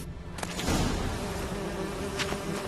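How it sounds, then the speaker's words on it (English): Bees buzzing in The Witcher 3, a close, continuous droning hum that swells in after a brief quiet start and holds steady with a couple of short sharp clicks. "Oh, I'm being stung by bees."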